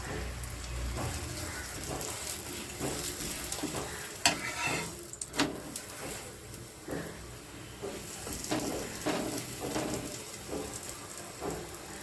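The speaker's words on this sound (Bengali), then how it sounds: "এবার আমি অল্প অল্প তেল দিয়ে ভেজে নেবো" A pea-stuffed paratha fries in a little oil, giving a soft, continuous sizzle and crackle close by, with occasional scrapes and stirring touches; no voices.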